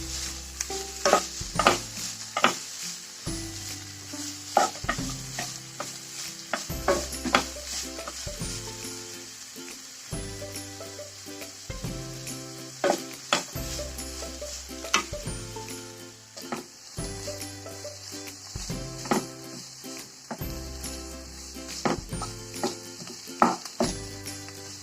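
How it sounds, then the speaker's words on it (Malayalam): Sliced onions mixed with spice powders stirred in a hot pan, a soft continuous sizzle broken by a regular rhythm of spatula scrapes and knocks against the pan, close and steady throughout with no talking. "നേരത്തെ കാണിച്ച മസാലപ്പൊടികൾ ചേർത്ത് വെച്ച സവാളയാണിത്. ഇത് ഇതിലേക്ക് ഇട്ട് കൊടുക്കും. ഇനി ഒന്ന് ഇളക്കിയെടുക്കാം."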